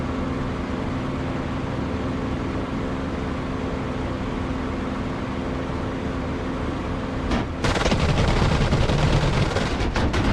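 Aircraft guns firing in a DCS or War Thunder flight simulator, a steady engine drone broken near the end by a loud, dense burst of rapid gunfire.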